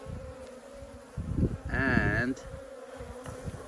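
A small opened beehive with tiny frames gives off a steady insect buzzing that swells for about a second alongside a brief word from a nearby speaker, over faint background noise.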